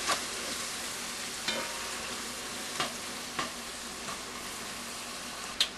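Onions sautéing in a pan until translucent for stuffed bell peppers: a continuous even sizzle broken by occasional sharp spoon taps against the pan, with no talking.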